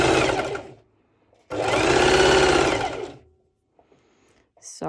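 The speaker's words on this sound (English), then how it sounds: "I will do a basting stitch, so you can see how I'm doing the basting stitch" A sewing machine runs a basting stitch through bikini fabric in two loud, close bursts of rapid whirring, each lasting a second or two, separated by silence, with a brief mechanical clatter at the end.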